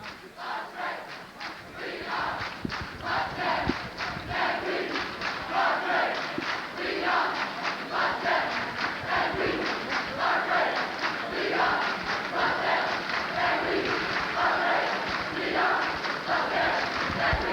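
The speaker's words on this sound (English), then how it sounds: "Potsdam crowd picking up the cheer" A Potsdam crowd at a 1986 NCAA Division III basketball championship game keeps up a loud rhythmic chant and cheer, sustained across the whole stretch with steady pulsing beats.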